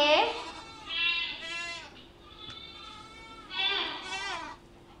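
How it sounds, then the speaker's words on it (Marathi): A goat bleats repeatedly, wavering, drawn-out cries in three separate calls, close and clear against a steady low hum. "बघा मुलांना बकरी कशी ओरडते"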